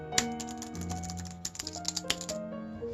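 Keystrokes on a membrane computer keyboard, a run of soft, muffled clicks and taps that comes close and quick in small irregular bursts, with a faint tonal hum running beneath it.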